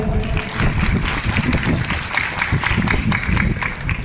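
Audience applause at a business speech event, a dense, loud burst of clapping from many hands that holds steady for several seconds.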